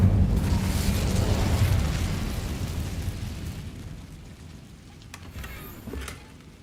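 A Bombarda explosion spell goes off in Hogwarts Legacy: a loud, booming blast that rumbles and slowly fades over several seconds, followed by a few faint crackling pops.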